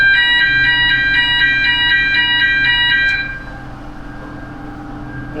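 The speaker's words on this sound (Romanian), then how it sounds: "testăm alarma de la lift" An elevator alarm being tested aboard a commercial ship sounds as a loud, repeating electronic beep-tone for about three seconds, then stops, leaving a steady engine-room hum.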